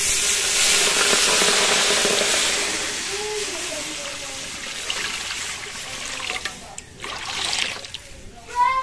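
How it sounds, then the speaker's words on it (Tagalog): Water poured into a cooking pot outdoors over a wood fire, a steady broadband trickling and splashing that fades after a few seconds, with faint voices and clatter toward the end. "So, lagyan natin ng tubig."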